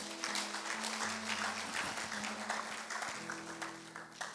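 A church congregation applauds in a sustained wash of clapping, dense and fairly distant, over a background of organ or keyboard chords.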